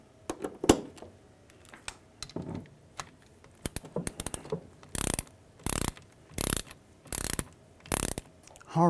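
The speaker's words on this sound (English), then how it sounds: "I got all the tail housing bolts torqued to 20 foot-pounds" A ratchet clicks in short bursts while tightening tail housing bolts on a T-5 transmission, with a few scattered taps early on and then regular, evenly spaced runs of clicking, close and clear.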